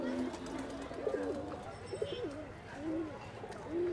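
Pigeons at a busy pigeon market in Khulna coo in soft, repeated rolling calls close by, several birds overlapping against a low murmur of crowd noise.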